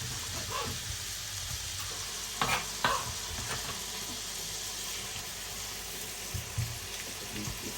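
Garlic and food fry in a home kitchen pan with a soft, continuous sizzle. Faint stirring clicks and scrapes sound now and then, quiet and without talking.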